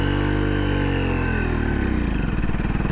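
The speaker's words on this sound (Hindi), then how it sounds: "फोर्थ गियर में भी मोटरसाइकिल आराम से स्टार्ट हो गई" A 2024 Triumph Speed 400 motorcycle pulls away in fourth gear, its single-cylinder engine running close and loud with a steady throb that sinks lower and lugs as it strains to get moving.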